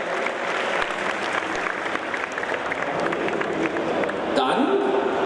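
Audience clapping at a stage show, a steady crowd of hands filling the room, with a voice speaking over it near the end as the applause rises slightly.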